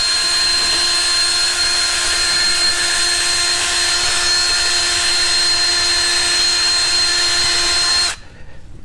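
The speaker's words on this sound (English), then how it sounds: "I love power tools because it just makes things so much easier. I got this wire brush right here." A power tool spins a wire brush inside a ball joint socket during a 2001 Ford F150 4x4 suspension rebuild, giving a loud, steady whining grind for about eight seconds before it cuts off abruptly.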